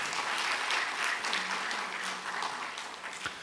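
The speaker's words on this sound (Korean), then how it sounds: "우리 구역장들을 위해서 격려의 박수를 쳐줍니다" A church congregation at a Wednesday prayer meeting claps in encouragement for its district leaders, a steady, fairly loud roll of many hands that holds for a few seconds and eases slightly toward the end.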